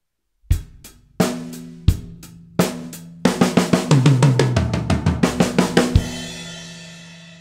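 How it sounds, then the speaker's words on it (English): A drum set plays a basic 16th-note fill. Four spaced single hits lead into a rapid, even run of strokes around the toms, and the last strike rings out and decays. The sound is close and loud, with no talking. "the 16ths around the drum set. Sounds a little like this."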